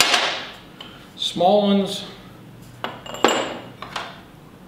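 Metal hole saws are handled in a workshop, clinking and knocking together in scattered bright taps throughout, mixed under a man's short spoken phrase.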